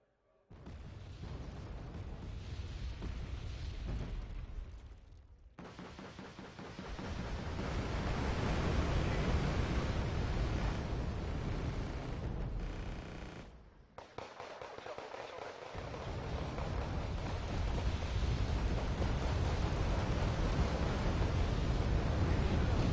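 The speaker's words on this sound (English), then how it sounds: "Make rocket barrage on that place" A rocket barrage in Wargame: Red Dragon, a dense, rumbling roar of many overlapping explosions that swells, drops out briefly twice and returns, loud and continuous, with faint talk underneath.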